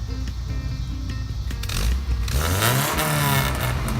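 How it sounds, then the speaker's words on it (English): Nissan S12 car engine with a makeshift muffler fitted, idling with a rough low rumble and then revving up sharply, the pitch rising and falling loudly close by, with no talk. "Oh, let me rev it."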